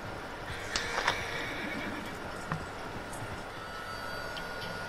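Horse whinnying and hoof clip-clop in the Red Dead Redemption 2 Online game camp, with a couple of sharp neighs early on and faint steps over a steady ambient background.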